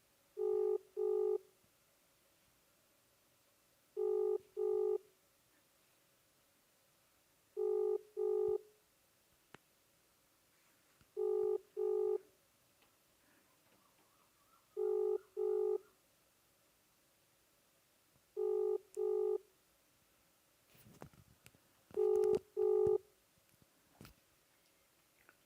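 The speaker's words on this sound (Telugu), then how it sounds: "వాట్సాప్ కాల్ రింగ్ అవుతుంది" A WhatsApp call rings on a phone, giving paired electronic beeps that repeat about every three and a half seconds at a steady rhythm, fairly quiet, with faint handling noise near the end.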